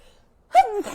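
One sudden, close sneeze bursts out of near silence, a sharp intake followed by a voiced release, from a podcast host who says she is allergic to everything.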